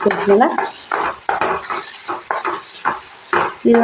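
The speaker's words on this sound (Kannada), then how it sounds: "ಟಮಾಟಿ ಉಳ್ಳಾಗಡ್ಡೆಲ್ಲ ಹಾಕಿದೆ ಮಿಕ್ಸ್ ಮಾಡ್ತೀನಿ" A utensil stirs tomato and onion in a pan, giving a run of close, uneven scrapes and metallic clinks in short bursts with no talking.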